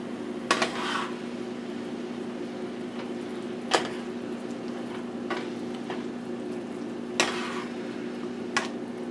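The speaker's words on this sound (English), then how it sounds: "all we're going to do is just brown this in the skillet and see what it tastes like" Squirrel meat browns in a skillet with Italian dressing, a faint steady sizzle broken by a few sharp clinks of utensil against the pan.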